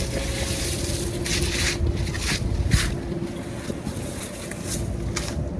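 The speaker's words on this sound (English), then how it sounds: "it's windy at the same time" Steady wind blowing through a garden, a continuous broad rush with gusty swells and buffeting against the microphone, loud and close throughout.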